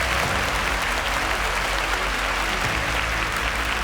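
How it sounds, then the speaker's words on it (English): Steady, dense audience applause fills a quiz show semi-final venue, loud and continuous with no break for the whole stretch. "Please a round of applause for him."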